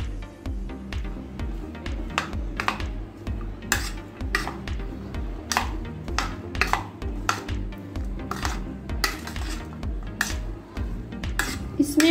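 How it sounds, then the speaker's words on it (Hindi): Powdered spices for pani puri are mixed in a metal bowl, with a steady run of spoon-on-dish clinks and scraping strokes close by, repeating rhythmically throughout with no talking. "और ये पाउडर मसाले, इसकी अच्छे से मिक्सिंग कर लेते हैं।"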